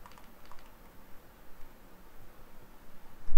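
Steady typing on a computer keyboard, with soft, quick key clicks running continuously at close range over a faint background hiss, and no talking.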